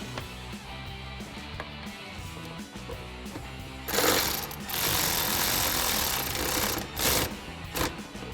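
Nut tightened onto a ring terminal on the wiring of a BARDE front bumper on a 2016-2023 Toyota Tacoma, a rapid mechanical ratcheting chatter that swells into louder bursts partway through, close by.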